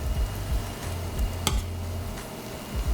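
Smashed potatoes sizzling steadily in butter in a pan, a continuous close frying hiss broken by soft taps and one sharper clack as tongs flip the pieces, no talking.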